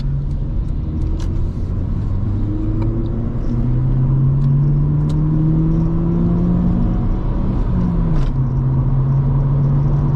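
A Honda Civic EP2 drives along, its engine note rising and falling steadily through gear changes with a continuous road rumble, heard alone and fairly close.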